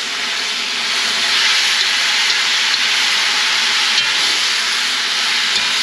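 Sweet-and-sour pork (guo bao rou) sautéing in a hot pan as it is stirred, a loud continuous hiss and sizzle that swells slightly and holds steady, close up, with no voices.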